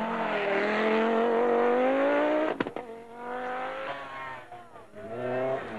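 Rally cars on snow, a Peugeot 205 Turbo 16 and an Audi Quattro Sport, roar past with a loud, rising engine note, a sharp burst mid-way, then a second car revving up nearby.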